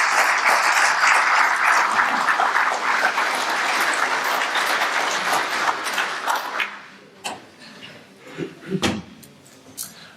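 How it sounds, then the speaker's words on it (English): A conference audience at the British Constitution Group Conference 2015 gives dense, loud applause for Ian Puddick for several seconds. It then thins out into scattered claps and a few thumps and shuffles. "So big round of applause for Ian."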